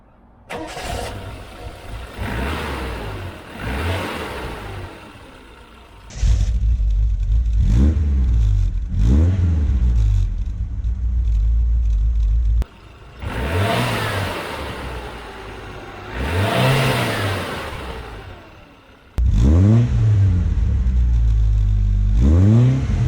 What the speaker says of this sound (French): on retrouve ce 4 cylindres 2 litres avec double carburateur SU. Vous allez voir que ça fait un petit bruit sympa